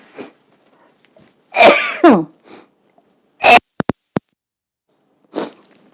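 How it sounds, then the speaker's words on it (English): A person sneezes from pepper while cooking, a couple of sharp bursts with sniffs and short throat noises around them, close and loud in an otherwise quiet kitchen. "That pepper's going to make me sneeze"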